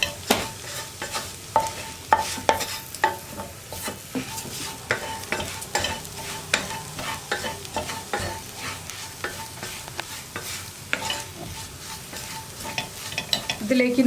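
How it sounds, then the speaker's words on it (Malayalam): Spice powders cooking in oil for a soya roast, stirred continuously with rapid scraping and clattering strokes over a low sizzle, close and without talk. "പൊടികളുടെ ആ റോ സ്മെല്ലും റോ ടേസ്റ്റും മാറി വരുന്നത് വരെ നന്നായിട്ടൊന്ന് ഇളക്കി കൊടുക്കുക."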